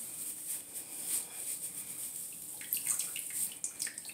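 Water trickles and drips steadily from the wet ends of a wig as they are wrung out, a soft close continuous splashing with small louder drips near the end, no voices.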